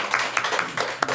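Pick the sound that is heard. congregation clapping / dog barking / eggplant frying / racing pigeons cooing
congregation clapping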